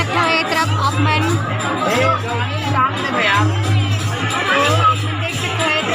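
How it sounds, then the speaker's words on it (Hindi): A large crowd of devotees at a Krishna Janmashtami celebration in Kawardha, Chhattisgarh, a loud steady hubbub of many voices with a low continuous hum underneath. "एक तरफ बहुत ज़्यादा भीड़ बने हुए हैं"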